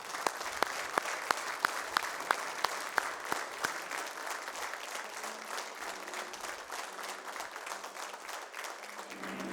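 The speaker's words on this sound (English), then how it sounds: "give a big round of applause to the staff" An audience at a mining health and safety conference breaks into sustained applause that carries on throughout, loud and close, with a few sharp individual claps standing out near the start.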